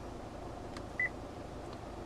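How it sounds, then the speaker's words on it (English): A single short electronic beep from the touchscreen display of a 2019 Kia Sorento 2.2 CRDi AWD SX, faint and clean over a quiet cabin hum, with a couple of soft taps around it. "the beep when you touch the display"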